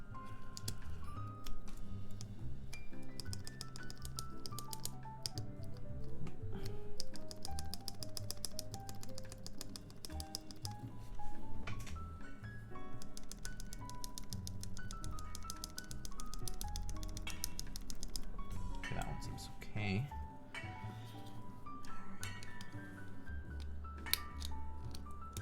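Mechanical keyboard with a rattly stabilizer being typed on, a quiet steady patter of clacky keystrokes with occasional louder thocks, close up and with no talking.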